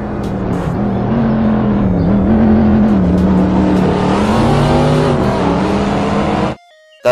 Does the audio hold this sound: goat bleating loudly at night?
no